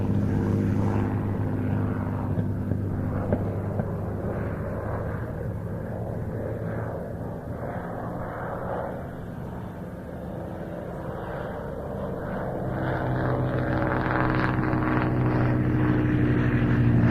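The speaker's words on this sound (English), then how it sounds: "The Catalina from plain sailing there being brought into land" A Catalina flying boat comes in to land at an airshow, its propeller engines droning steadily and loudly throughout, swelling slightly toward the end as the aircraft passes closer.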